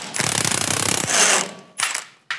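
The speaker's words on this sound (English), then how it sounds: "all you need is a 14mm socket on the bottom and to remove this" A ratchet with a 14mm socket clicks in a rapid, even run while loosening a truck's sway bar end link, followed by a whirring spin and a couple of short bursts, up close.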